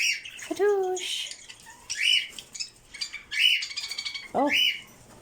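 Budgies in an aviary give several sharp, loud squawks and chirps in quick bursts, close by, with a faint voice in the background.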